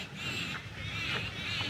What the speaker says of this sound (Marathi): इथे जो पक्ष्यांचा आवाज येतो आहे किंवा बदकांचा जो आवाज आहे